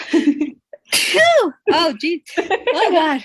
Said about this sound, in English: Sneezing is weird.